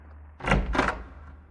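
A door moves and closes in two quick, close bumps and rattles in a building in Russia, heard alone against a quiet room background.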